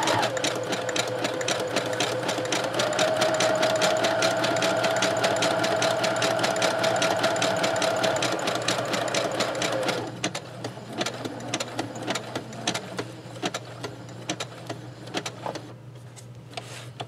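A sewing machine stitches a vintage handkerchief onto a paper craft page, its rapid steady whirring running continuously and loud for about ten seconds before stopping into softer intermittent clicks and handling noises.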